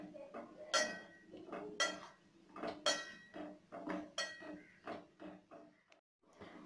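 A spoon scrapes and clinks rhythmically against a metal pot of boiling herbal kashayam, close and fairly quiet, in a steady series of stirring strokes.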